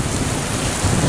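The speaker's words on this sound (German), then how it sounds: "Sehen wir, wie der Regen da von dem" Heavy storm rain pours and streams off a car roof, a dense, loud, unbroken wash of water noise with a slight surge near the end.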